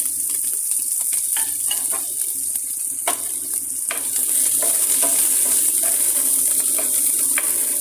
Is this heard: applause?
no